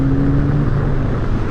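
Elemental RP1 sports car on a track, its engine droning loudly with a steady tonal hum and rushing wind noise, heard from onboard with no speech.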